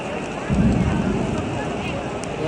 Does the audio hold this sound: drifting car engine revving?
no